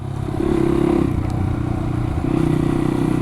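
A Beta 125 RR motorcycle rides along a road, its engine humming steadily at a low, even pitch with a slight rise early on and no talk.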